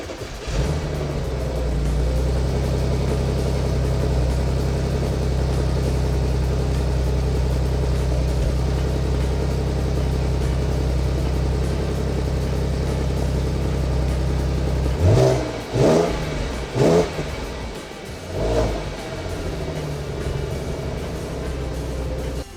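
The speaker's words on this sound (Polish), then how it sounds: "Eee, silnik jest zimny. Dobra, trzeba odpalić." Cold Audi A6 C6 engine running at a steady low idle for about fifteen seconds, then a few sharp revs near the end before settling back to idle; no talking.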